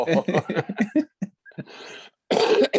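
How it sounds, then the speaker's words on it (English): A burst of harsh coughing, several rapid coughs in a row, close and loud, followed after a pause by another rough fit of coughing. "It's COVID coughing on the air"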